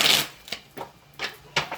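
A deck of tarot cards being shuffled by hand, a soft riffling burst followed by three or four short dry taps and flicks at irregular intervals, close and fairly loud with no voice.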